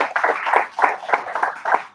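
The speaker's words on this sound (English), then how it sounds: "Big round of applause." A small audience at a live show gives a round of applause, with uneven bursts of hand claps rising and falling close by.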